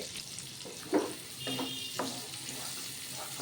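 Onions frying in a pan for Bengali-style chilli potato, a steady low sizzle broken by a few stirring knocks and scrapes, fairly close and without talk.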